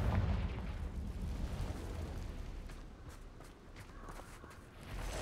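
A Confringo blasting spell goes off in the Hogwarts Legacy video game, a loud booming burst near the start followed by rumbling, crackling blasts and scattered sharp pops fading through a cavern setting.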